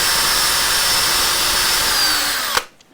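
A power drill whines loudly and steadily as it bores pilot holes for screws into the wooden neck of a Telecaster-style guitar, then winds down and stops abruptly near the end.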